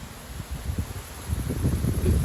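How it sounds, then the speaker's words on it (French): Strong gusts of wind outdoors during a September gale, buffeting the microphone with low rumbling bursts that grow louder and more insistent toward the end. "Donc coup de vent quand même."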